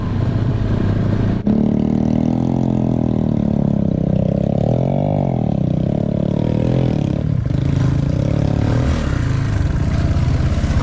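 A motorcycle engine runs steadily and loudly up close, its pitch rising and falling as it revs, with a brief clack near the start.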